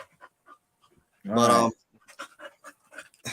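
Blue the dog lets out one loud, strained whining burst, with faint short panting sounds scattered around it between sparse bits of talk.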